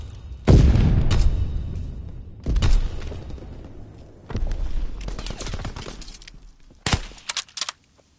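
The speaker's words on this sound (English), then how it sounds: "Tossing stun grenade." A stun grenade goes off in a World War II video game, a sharp close blast followed by further bursts and crackling impacts over several seconds, with no voices.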